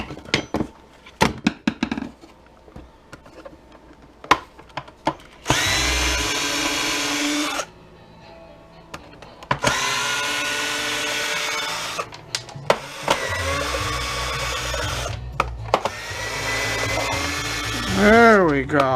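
A power drill backs screws out of a Husky jump starter casing in several loud whirring bursts of a few seconds each, separated by clicks, handling clatter and brief talk.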